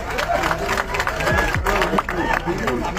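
An audience claps at a political rally in a steady, dense wash of applause lasting throughout, loud and close, with cheering crowd noise and indistinct voices mixed in.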